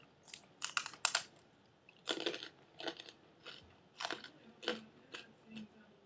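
Crisp crunching bites and chewing of brown-sugar-flavored Japanese rice crackers, several loud close crunches in quick clusters separated by short pauses.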